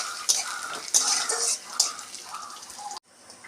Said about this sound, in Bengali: কুমড়ো দানাটা ভালো লাল করে ভাজতে হবে।